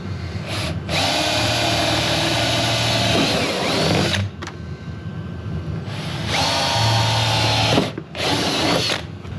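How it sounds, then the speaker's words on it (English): A power drill whirs loudly in two long bursts while installing a winch on a Polaris RZR-style KRX 1000, with short trigger pauses and brief clicks between, close up and without talking. "yeah, so we're just gonna drill it."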